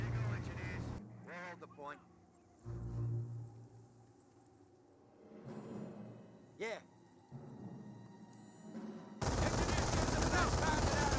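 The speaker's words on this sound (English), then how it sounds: "MG42 does find a good angle there on those" An MG42 machine gun fires in the Company of Heroes video game, with short bursts of gunfire among other battle noises and honking vehicle sounds. The clip ends with a loud dense barrage, and a commentator talks over the action.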